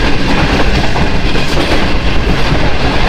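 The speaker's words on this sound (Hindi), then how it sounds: "RG20 के साथ एक मालगाड़ी है।" A freight train hauled by an RG20 locomotive rumbles past close by in Pakistan, loud and continuous, with heavy low-end roar and rattling wheels on the track.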